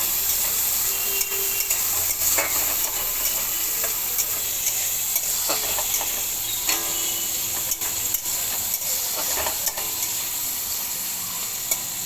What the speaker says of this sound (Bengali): প্রথমে কড়াইতে অল্প তেল দিয়ে চিংড়ি মাছগুলো হালকা করে ভেজে নেব।